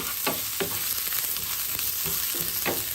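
Onions and chicken gizzard sauté in a hot pan for suya, with a steady close sizzle broken by several sharp scraping stir strokes.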